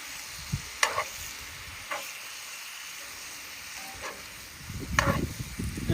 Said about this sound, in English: Now we're going to go in with our onions.